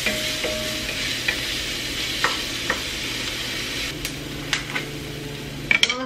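Food cooking in a pan with salt, kept up as a continuous moderate sizzle with a few light clinks and scrapes as it is stirred.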